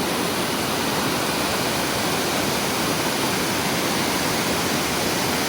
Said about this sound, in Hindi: आबशार का पानी का बहाव देखें कितनी स्पीड से जा रहा है